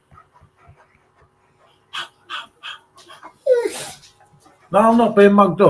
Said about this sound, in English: That's the dog I'm on about.